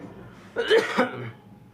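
A single short cough, close and fairly loud, rising out of a quiet background and fading quickly.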